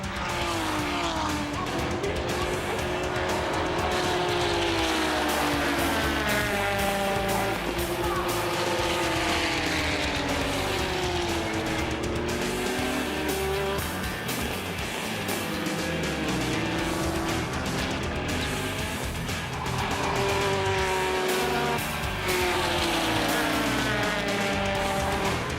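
Racing cars at a JGTC 2002 round, including a Ferrari F40, a Skyline and a Porsche battling for the lead, roar continuously with rising and falling engine notes through gear changes, loud and sustained, under faint commentary.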